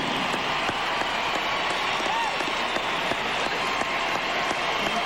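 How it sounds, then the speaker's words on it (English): Arena crowd applauding after a ladies' short program at the 2002 Olympic figure skating, a steady dense patter of clapping throughout with faint crowd noise beneath. "Her brother and sister applaud."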